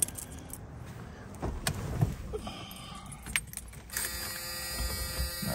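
Ignition key buzzer in a 1979 Mercury Capri RS Turbo, a steady electronic buzz that comes in for the last second and a half, after keys jangle and interior clicks and rustles as someone settles into the car.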